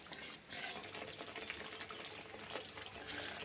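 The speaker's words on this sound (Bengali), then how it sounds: "আর একটু জল দিয়ে দিলাম।" Water pours into a simmering Bengali katla fish rezala curry gravy in a pan, making a soft, steady splashing hiss that stays faint and even throughout.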